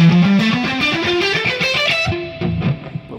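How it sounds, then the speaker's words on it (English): Fast distorted electric guitar scale run played with economy picking, notes climbing rapidly in a continuous stream and ending with a few accented notes, loud and alone with no talk. "Or you could economy pick it, which would sound like this."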